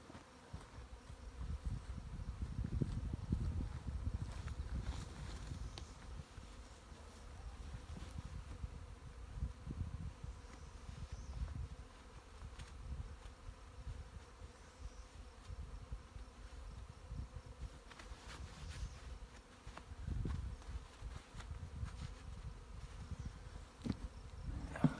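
A honey bee swarm outdoors on a farm makes a low, continuous, faint buzzing hum that swells and fades slightly over the long stretch, with no voices.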